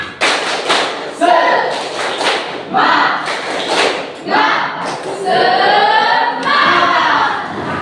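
A group claps in rhythm and jumps, landing in heavy thuds in repeated bursts, mixed with voices chanting and calling out close by.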